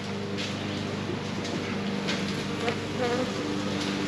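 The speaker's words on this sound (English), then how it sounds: "we get the bees ready" A package of bees being installed into a hive, giving a dense, continuous, close buzzing swarm that holds steady throughout, with no talk.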